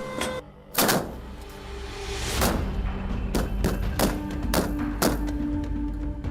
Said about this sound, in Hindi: 30 किलोमीटर तक गोला फेंकने वाली बोफोर्स का बॉम्ब शेल 42 किलोमीटर दूर तक जा रहा है